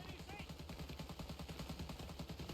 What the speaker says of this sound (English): Not sure who is shooting at that.